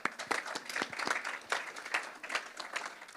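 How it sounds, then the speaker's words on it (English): Applause from a general body meeting audience honoring the election committee, a dense patter of many hands clapping at moderate distance, fairly soft and continuous. "Give them a round of applause."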